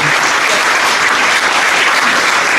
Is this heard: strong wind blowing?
no